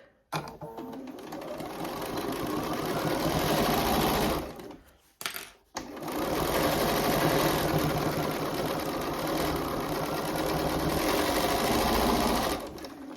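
Sewing machine running fast in steady bursts while back stitching fabric corners, a close, even mechanical whir that stops briefly twice mid-way before resuming; no speech.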